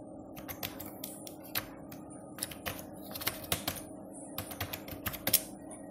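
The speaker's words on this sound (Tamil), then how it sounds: "அதில் ஏர்டெல்னு டைப் பண்ணிக்கோங்க." Someone types steadily on a computer keyboard, producing quiet, close clicks in irregular bursts over a low background hum, with no talking.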